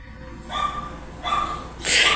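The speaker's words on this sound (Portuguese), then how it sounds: "Vocês não ouviram os cachorros de fundo?" Dogs bark in the background, three separate bursts spaced about a second apart, the last one louder and sharper, over a low ambient hum.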